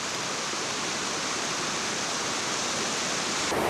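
Loud, steady roar of a waterfall at Popa Falls on the Kavango River in Namibia, swollen with rainy-season water; a dense unbroken rush fills the whole clip with no other sound.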